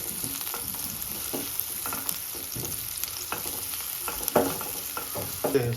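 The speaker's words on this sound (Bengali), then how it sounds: "এবার ফ্রাইং প্যানের ভিতরে দিয়ে দিচ্ছি পেঁয়াজ, এরকম ছোট ছোট করে কুচি করে নেওয়া, নিয়ে এটাকে নাড়াচাড়া করে নিচ্ছি কিছুটা।" Finely chopped onions frying in oil in a frying pan while being stirred, a steady sizzle with irregular spatula scrapes and clicks, close and moderately loud, no voices.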